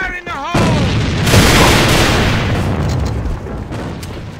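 A grenade goes off in a tactical shooter game with a loud, close boom that rolls out into a long fading rumble, after a brief voice at the start.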